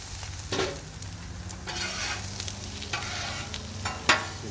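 Onions and butter fry on a Blackstone griddle with a steady, fairly quiet sizzle, broken by several scraping strokes of a spatula as they are stirred, ending with one sharper clack.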